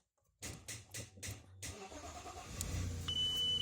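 An Audi A6 with a starter fault, engine codes P3053 and P3088, cranks in about six quick, even pulses, then catches and settles into a steady idle, with a short electronic beep tone near the end.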